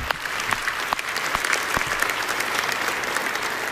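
Lukewarm audience applause at the Microsoft Build 2019 conference: a steady wash of many hands clapping, moderately loud and continuous, with a few sharper claps standing out, no voices over it.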